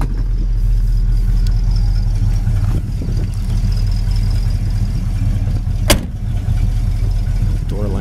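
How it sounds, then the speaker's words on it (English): A 1967 Plymouth Belvedere's engine idles steadily after running for some time, a loud, close, even low rumble that holds without change, with someone talking over it and a brief knock partway through. "Engine sits here and runs great. It's been idling here for about 10-15 minutes."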